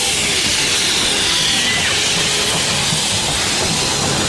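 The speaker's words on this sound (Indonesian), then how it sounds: "Oh, kereta Thomas." A Thomas train passes, giving a steady, loud hissing rush with a faint rumbling rattle underneath and no voices.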